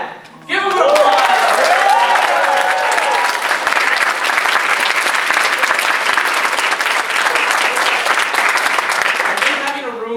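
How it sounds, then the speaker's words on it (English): A room full of people at a senior recital breaks into loud, sustained applause that starts abruptly and holds steady for about ten seconds before tapering slightly. "Mom and Dad, give them an applause."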